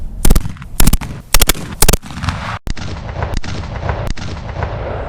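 Four loud, sharp bursts of gunfire from a single action Army race gun fire in quick succession, followed by three more spaced cracks over a rumbling, echoing tail.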